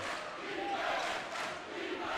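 A college basketball crowd at a Tarleton vs Abilene Christian game gives off a dense, steady roar of cheering that swells and eases slightly, with no voices standing out.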